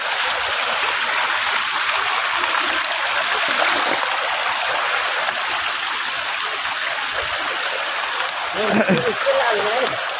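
Steady rushing flood water pours and gurgles without pause after a storm, loud and close, with a brief bit of indistinct voice near the end.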